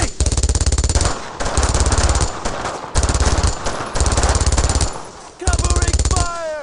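In the Brothers in Arms: Road to Hill 30 World War II video game, machine guns fire in loud, close, rapid bursts with short gaps between them. Shouted voices come near the end.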